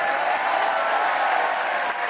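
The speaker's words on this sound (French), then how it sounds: "Les amis, on peut applaudir Teddy Riner aussi, s'il vous plaît." A crowd claps steadily and densely, a continuous wash of applause with no pauses.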